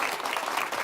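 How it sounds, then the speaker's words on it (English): Applause and cheering for a school fundraiser, a short burst of dense clapping from a crowd, steady and fairly loud with no talk over it. "Let's give them a huge cheer"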